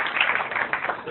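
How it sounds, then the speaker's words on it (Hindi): Audience applause in a hall at a poetry gathering (mushaira / kavi sammelan), honouring poet Arif Gandhi; dense, steady clapping from a crowd lasting about a second, with no speech over it. "मैं पूरे आदर के साथ चाहूँगा जोरदार ताली आरिफ भाई के लिए।"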